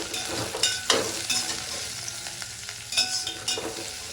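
Bitter gourd sautéing in a pan, with a steady soft sizzle broken by a few sharp scraping stirs of a spoon, close and alone with no voices.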